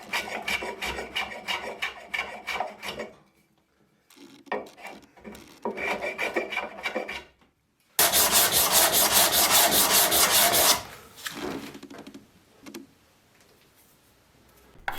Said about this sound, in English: I find the best way to remove any excess epoxy that's on the surface is using a card scraper